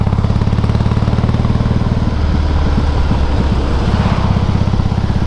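Motorcycle engine running loud and close while the rider downshifts from fourth to third gear, a steady pulsing drone that turns rougher with clattering bursts partway through, no talk over it.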